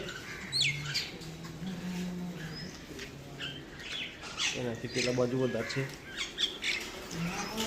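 Harsh crow caws and quick sparrow chirps ring out nearby in bursts as the birds are fed sev, while a person speaks briefly over the birds.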